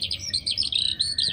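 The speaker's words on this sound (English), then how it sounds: "the birds are so annoying." Birds at a campsite sing in rapid bright chirps and twittering phrases, close and continuous, with no talking over them.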